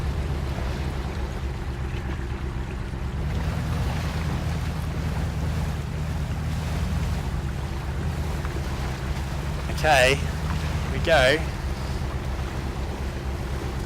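A truck in Mudrunner drives through river water, giving a steady rushing, churning wash of water and engine noise throughout, while someone speaks briefly.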